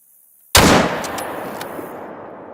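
A single loud gunshot from a hunting video game, fired at an animal lying down, breaks a near-silence with a sharp crack and then a long rolling echo that slowly fades, with faint clicks in the tail.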